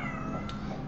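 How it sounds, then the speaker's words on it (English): A cat meows once, faintly and briefly, in the background beneath a steady hum of other sound. "It's a cat. It's a kitty."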